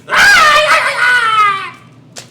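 A single voice imitates a goblin's scream, a loud, shrill wail lasting well over a second that wavers and slides down in pitch, then a short faint sound follows.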